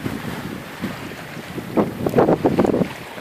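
A traditional gaff cutter with mainsail up, all reefs in and jib unfurled sails at about five knots, wind buffeting steadily with water rushing and sloshing louder near the end.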